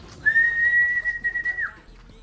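A single long, steady whistle is blown to call back racing pigeons. It holds one clear, sustained pitch for over a second and is close and fairly loud, with light outdoor background noise.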